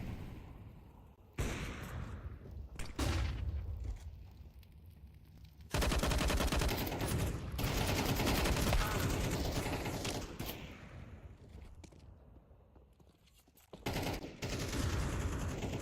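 Counter-Strike match gunfire: bursts of automatic rifle fire and shots crackle over a dense game mix, loud and sustained with fluctuating intensity and brief lulls.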